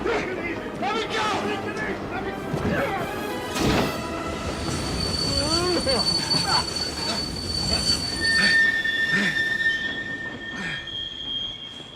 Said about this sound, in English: why'd you guys stop the train?